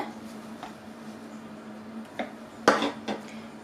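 A utensil gently stirs gingerbread batter with grated almonds in a bowl, making soft scraping and a few light clinks against the bowl, close and quiet over a faint hum.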